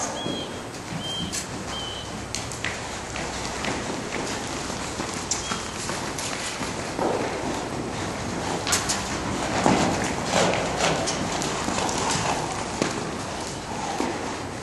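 A horse trotting to the right during its first official ride, hooves clip-clopping steadily outdoors at moderate distance amid breezy background noise and occasional birds.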